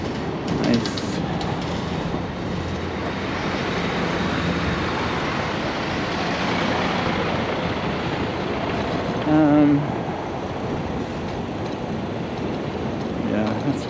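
A fuel tanker truck rolls past on a New York City street at night, a loud, sustained rumble and roar lasting the whole stretch, with a brief brake squeal near the end.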